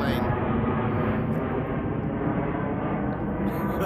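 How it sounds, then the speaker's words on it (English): An airplane passing over the Ethel M Botanical Cactus Garden, a loud, continuous broadband engine roar filling the scene, with a person talking underneath it. "Oh, there's a plane."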